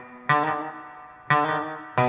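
Electric guitar played through a reverb effect, three strummed chords ringing out with long smooth decays, close and moderately loud with no talking.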